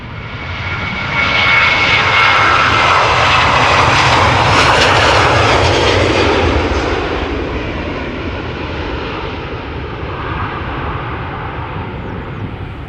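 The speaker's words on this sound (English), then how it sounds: "It is a Boeing 737-800 that is going to Stockholm." A KLM Boeing 737-800 jet airliner at Amsterdam Schiphol Airport gives a loud, sustained engine roar that swells to a peak around the middle, then slowly eases as the plane moves off, with no voices over it.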